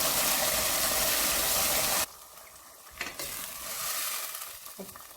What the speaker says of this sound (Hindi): थोड़ा सा से भूनना है, ज़्यादा नहीं भूनना